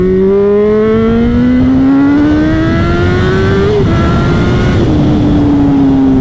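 A Honda CBR600RR 600cc sport motorcycle winding up hard, its engine pitch climbing steadily through the revs with a brief dip near the top before pulling again, loud and close throughout, no talking.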